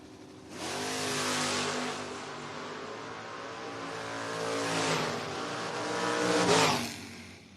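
A 1967 Chevy and a 1991 Dodge Dakota drag race at a footbrake bracket event, engines roaring loudly and rising in pitch as they accelerate down the strip, swelling to a peak near the end with no talk.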